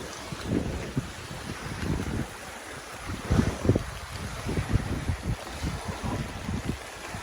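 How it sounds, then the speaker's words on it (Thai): Strong wind buffets the microphone in loud, uneven gusts during a rainstorm at a reservoir, with a rushing, stormy roar underneath and no talking. "ฝนตอนนี้ลมแรงมากพายุ"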